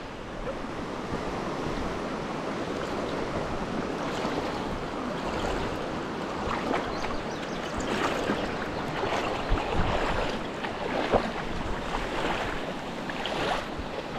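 Rushing river water on the Diteki River in San Luis, Aurora, heard while crossing on foot: a steady, close, broadband wash with some wind buffeting the microphone and no talking.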